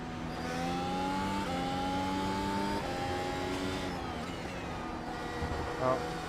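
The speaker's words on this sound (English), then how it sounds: "Watch your mirrors, there's a car approaching." A Formula-style race car engine in iRacing at Imola whines at high revs and steps up through the gears, one steady mechanical drone that holds over the track ambience.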